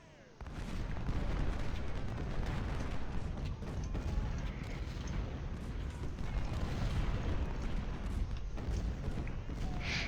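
Civil War artillery fire in the strategy game Ultimate General: Civil War, with a dense, continuous rumble of cannon blasts and battle noise that starts abruptly and stays loud throughout, broken by sharper bursts.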